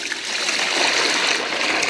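Water runs steadily from a tap into a plugged bathtub, a continuous close splashing and gurgling rush with no pauses.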